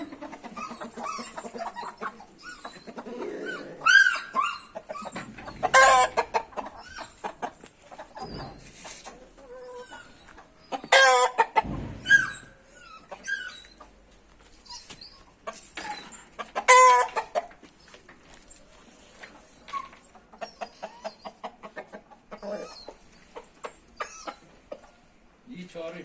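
An Aseel Indian game rooster calls to its hens with repeated clucking bursts and sharp squawks scattered over about half a minute, close and fairly loud, with a person speaking between the calls.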